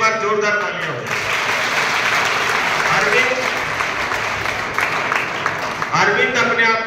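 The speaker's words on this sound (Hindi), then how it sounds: "अरविंद के लिए एक बार जोरदार तालियां हो जाए।" An audience at a school health awareness program claps loudly and steadily, a dense wash of applause from start to finish, with a voice speaking over it at times.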